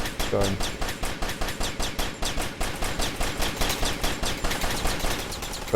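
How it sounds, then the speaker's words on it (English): Rapid automatic gunfire in the Xeno Galaxies video game rakes a computer console, a steady, evenly spaced stream of sharp shots that continues for several seconds at moderate loudness. "Shooting up a computer console is not too hard, and as you can see, the console really gets trashed, totally destroyed"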